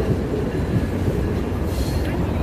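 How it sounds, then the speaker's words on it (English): A loud train rumbles past up close, a dense, steady roar of wheels and carriages filling the whole stretch without a break. "We like our trains loud around here."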